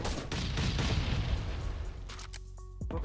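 Rapid bursts of gunfire from the survival video game Last Island of Survival crackle and boom in quick succession, loud and dense, with a few sharp shots standing out near the end.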